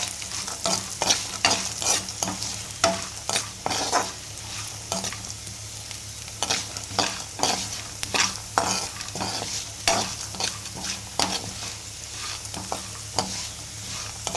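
Fenugreek seeds frying in a pan, with repeated stirring scrapes and light sizzling in an irregular rhythm, close and moderately loud, with no talk.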